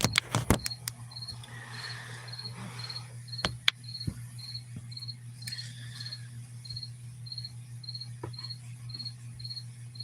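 Crickets chirping at night, one steady, evenly pulsed chirp repeating throughout over a low hum, with a few sharp clicks and taps at the start and scattered later.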